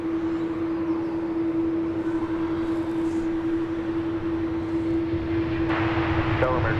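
An airplane taking off at DFW Airport, a loud, steady engine roar with a sustained tone throughout, with radio chatter faintly audible underneath.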